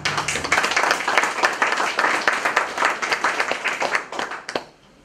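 An audience claps at an anniversary celebration of a German Kneipp association in Haßloch. The applause is lively and steady with distinct individual claps, then thins and fades out near the end.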